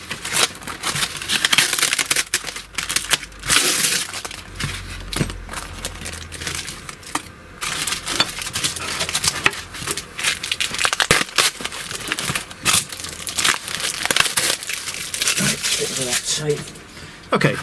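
Small metal Allen keys and assorted bits rattle and clink inside a bag as it is handled, a busy run of close jangling and crinkling with sharp metallic ticks throughout.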